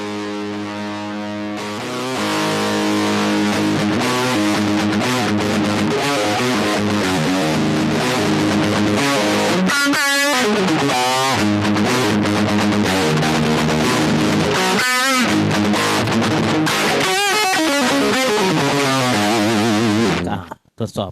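Heavily distorted Washburn electric guitar through a Kustom Quad100 DFX amplifier with a 100-watt Celestion speaker, loud and continuous, chords and riffs with a few brief breaks, then an abrupt stop.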